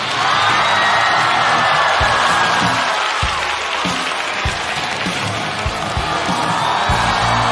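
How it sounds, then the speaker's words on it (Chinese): Studio audience at a stand-up comedy show bursts into sustained applause mixed with cheers and whoops, a steady loud wash of clapping that holds for several seconds. "让我们来掌声欢迎"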